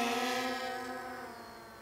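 A small UAV drone climbing and flying away outdoors, its steady high-pitched rotor whine layered with tones and slowly fading as it moves off into the distance.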